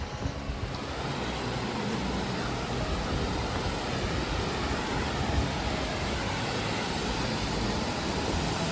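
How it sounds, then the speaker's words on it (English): Steady, dense rush of falling water at a waterfall along the Appalachian Trail, a continuous broadband roar that holds at an even level throughout with no voices. "I'm about to see a waterfall."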